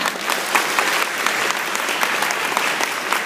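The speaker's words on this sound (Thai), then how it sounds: "ขอเสียงปรบมือดังๆนะคะ" Loud, dense applause from an audience at a tribute event, continuous clapping with crisp individual claps standing out, sustained evenly from start to finish.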